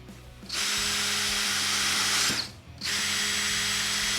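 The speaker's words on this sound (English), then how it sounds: "when you're done drilling out those pilot holes, just flip it over and you're good to go again" A DeWalt drill fitted with a countersink adapter whines up at high speed while drilling pilot holes, in two sustained bursts with a brief pause between them, close and loud.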